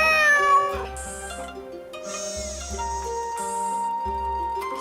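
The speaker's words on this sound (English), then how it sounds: "Who's my favorite robotic cat?" A robotic cat in a Nancy Drew video game meows several times in clear, tonal, electronic-sounding cries, heard close with synthetic game music behind.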